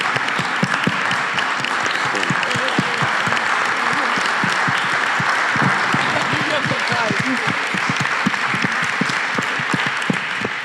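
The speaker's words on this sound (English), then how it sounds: "I hope everyone in this room will stand up and applaud you and honor you right now" A roomful of people applaud a personal testimony, steady dense clapping filling the whole stretch at close range, with a few voices mixed in beneath it.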